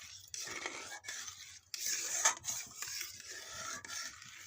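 A spoon scrapes and stirs egg halwa in a pan, a soft, close, rasping sound repeating in uneven strokes with faint clinks against the metal.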